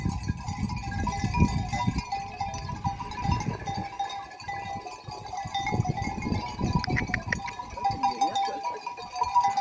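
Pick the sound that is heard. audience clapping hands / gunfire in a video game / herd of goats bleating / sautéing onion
herd of goats bleating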